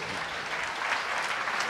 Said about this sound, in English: Clap for Dr.